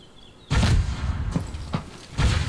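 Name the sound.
gunfire from units in a video game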